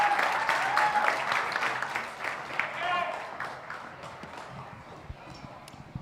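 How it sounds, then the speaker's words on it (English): Applause from an audience at a gourmet food awards ceremony, a steady wash of clapping that starts loud and thins out gradually over several seconds, with some voices mixed in. "Round of applause for Caitlin Drake, everybody."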